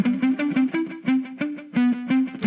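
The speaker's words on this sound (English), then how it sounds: "I have a left pan guitar and a right pan delay" A distorted electric guitar is panned left and a delay panned right, playing a rhythmic run of short picked notes at a fairly steady pulse, loud and upfront.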